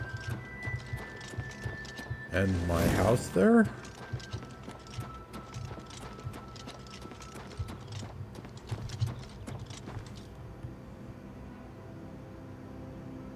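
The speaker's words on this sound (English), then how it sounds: "is he going to ride his horse all the way to the waterfront?" Steady clip-clop of horse hooves trots along at a quick, even pace in The Elder Scrolls IV: Oblivion Remastered, with a brief whinny partway through and a few quiet spoken words.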